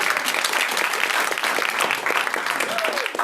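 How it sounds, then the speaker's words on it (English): Brief, lively applause from an audience at the 2023 JEDI Awards ceremony, a dense burst of clapping throughout with some voices underneath. "applause, please."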